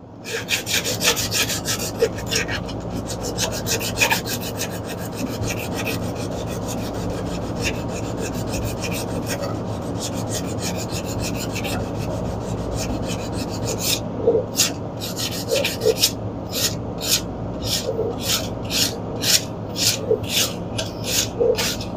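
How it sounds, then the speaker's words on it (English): Fine sandpaper rubs rust off the magnet of a Honda small-engine flywheel in steady, close rasping strokes. The strokes turn more distinct and rhythmic in the second half. "Just rub it till that old rust comes off."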